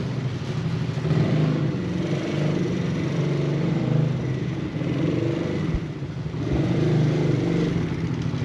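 Small 110cc CFMOTO C-Force youth ATV riding near bike jumps, its mid-pitched engine droning steadily and loud throughout with slight swells of revving and no talk.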